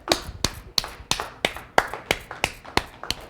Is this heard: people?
yes